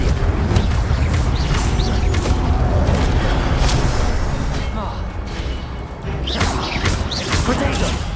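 Spell combat in the Hogwarts Legacy video game, with a fire spell being cast amid a dense, continuous mix of booms, crashes and mechanical clatter, loud throughout with a brief dip near the end while a voice talks over it.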